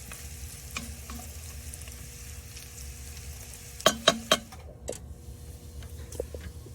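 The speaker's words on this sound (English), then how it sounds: "Get this bacon nice and stirred in. See how that fat is just kind of rendering across the pot." Bacon stirred in a pot while its fat renders, a steady low sizzle with a few sharp scraping clinks of the spoon against the pot near the middle, no talking.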